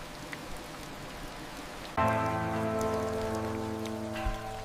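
Rain falling on surfaces in Grindelwald village, Switzerland: a soft, even patter and hiss that continues throughout, joined halfway by a sustained musical tone beneath it.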